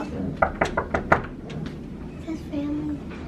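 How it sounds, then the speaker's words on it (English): Five quick, sharp knocks on a door in a steady rhythm, followed by soft background voices and room noise. "Knock on the door."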